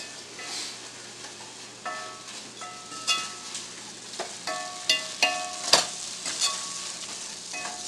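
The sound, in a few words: beef being stirred and sizzling in a pan with cumin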